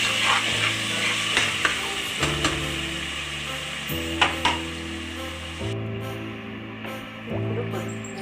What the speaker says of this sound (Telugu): ఆనియన్ అవంతా మసాలా అంతా పచ్చివాసన పోయే వరకు వేయించండి.